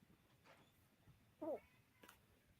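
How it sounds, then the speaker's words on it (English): A cat gives a single short meow at close range, faint and brief, amid quiet room noise. "the kitty's crying"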